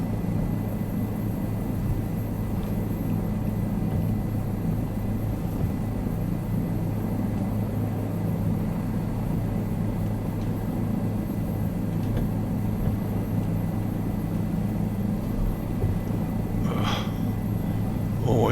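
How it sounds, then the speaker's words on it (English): Helicopter in Microsoft Flight Simulator 2020 settling onto a landing pad, a steady low rotor and engine drone holding throughout, with a brief brighter burst near the end. "Let's see if we can pop the chopper down here."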